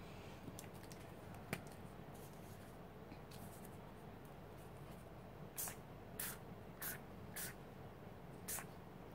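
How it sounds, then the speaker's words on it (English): A spray bottle of water mixed with gel food coloring gives several short, faint hissing puffs in a quiet room, bunched toward the end. "So I'm going to spray this, and I hope I won't make a lot of mess here."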